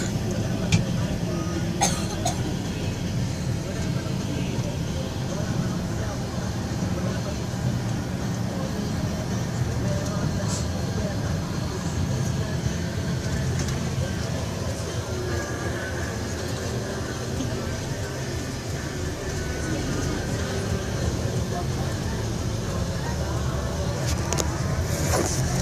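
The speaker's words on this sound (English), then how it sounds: "again we're caught up in traffic" Heavy road traffic on Roxas Boulevard in Manila, a dense continuous rumble of engines in slow congested movement, loud and close throughout, with a few faint clicks and knocks.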